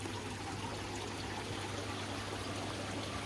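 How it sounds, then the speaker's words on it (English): Water gravity-feeding through a koi pond filter system runs as a steady, faint trickle and flow, a continuous low wash with no pauses. "naturally the water just finds its way through the system into that one"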